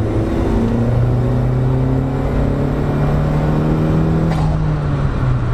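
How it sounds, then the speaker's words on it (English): A 1988 Mazda 323 GTX Turbo 4WD hatchback engine hums steadily under acceleration, with a faint high turbo whistle rising briefly near the end, close and continuous, no voices. "And I always find it cool that you can hear the turbo."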